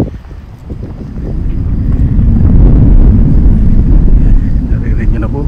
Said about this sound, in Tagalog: parang lumalakas ang hangin ah